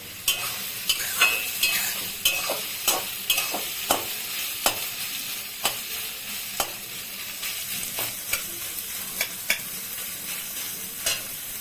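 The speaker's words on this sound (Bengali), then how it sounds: "এই যে সয়াবিনটা এইভাবে ভেজে নিলাম" Soybean chunks frying in a generous amount of oil in a pan, a steady close sizzle broken by a run of sharp clicks and scrapes as they are stirred, with no voices.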